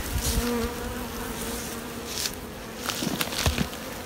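Honey bees drone in an open hive box on a cold day, a dense, continuous buzz close to the ear, with scattered sharper flybys and light tapping and handling knocks against the wooden box.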